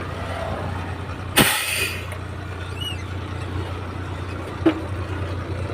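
Parked lorries idle nearby at a sand-loading site near Karimnagar, a steady low engine drone running throughout, cut by a sharp loud air-brake hiss early on and a shorter burst later.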